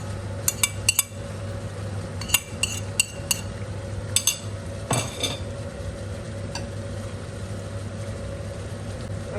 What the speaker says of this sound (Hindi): अब इसे भी थोड़ी देर के लिए हिलाएंगे